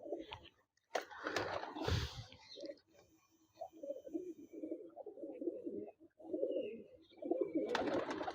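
Teddy pigeons in a loft, a Pakistani star-marked breed, give soft low coos and bird calls in a steady murmuring run, with one sharp louder burst near the start and brighter rustle at the end.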